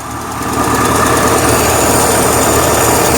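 A carburetor engine idles steadily after being repaired, a constant close mechanical hum with a faint knock that holds even throughout, no talking over it.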